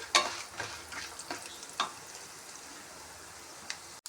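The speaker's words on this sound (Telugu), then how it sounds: "ఇలా బాగా వేయించుకోవాలి" Peanuts fry in a pan while a spatula stirs and scrapes them, giving a steady soft sizzle broken by a few sharper scraping strokes, close and fairly quiet.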